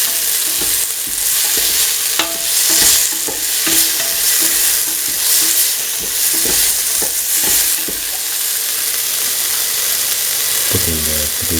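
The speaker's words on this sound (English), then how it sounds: "mix in the salt with the rest of the mixture" Potato and chickpea mixture seasoned with salt is stirred in a hot pan, a loud, dense sizzle with a steady run of scraping and clacking strokes, ending in a louder burst of clatter.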